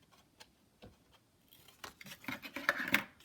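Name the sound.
scissors cutting corners of a paper mini album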